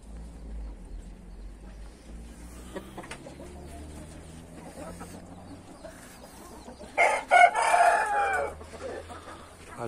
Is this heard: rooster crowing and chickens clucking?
yes